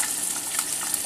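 Steady frying sizzle from cooking in a video game, a dense continuous crackle holding at an even level from start to finish with no voices.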